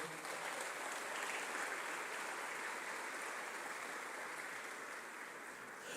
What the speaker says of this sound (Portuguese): Você pode dar um aplauso bem forte ao Senhor?